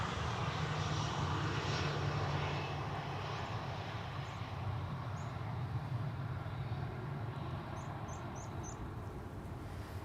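Airliners arriving on Polderbaan runway 18R during a morning rush that includes Boeing 747s and an Airbus A380, with a steady, heavy jet roar rising into a thrust-reverser rumble, loud and continuous and heard from a distance.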